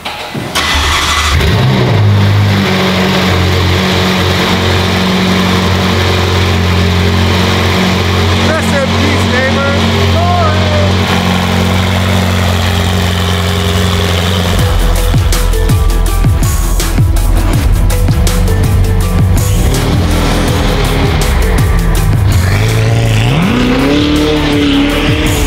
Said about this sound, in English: Everybody wants to hear a 488 cold start with the FI exhaust.